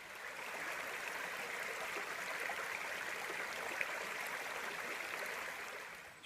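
A cold creek in Ramsey Canyon Preserve flows steadily, its broad, even rush of water holding a constant level throughout with no voices.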